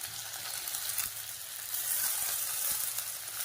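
Tomatoes sautéing in a pan for a tomato garlic chutney, a faint, even sizzle that swells slightly midway, with occasional soft stirring ticks and no voices.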